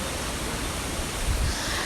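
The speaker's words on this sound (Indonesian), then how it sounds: "ini adalah air terjun Coban Rondo" Coban Rondo waterfall in Batu, East Java, pours as a steady, dense broadband rush, close and continuous with no voices, a constant roar that holds level throughout.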